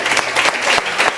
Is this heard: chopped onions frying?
no